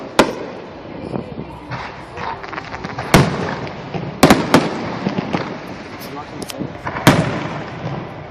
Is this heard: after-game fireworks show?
yes